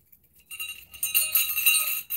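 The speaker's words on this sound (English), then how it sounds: "There's 5 bells and they're all on this gold tied braid, whatever, on this big old hook thing." Five big fat bells with marbles inside, hung on a gold braid from a large hook, jingle in a few bright, shimmering bursts that rise and fade, close by and with no talk.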